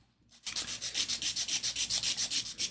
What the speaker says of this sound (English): Sand it down a little bit.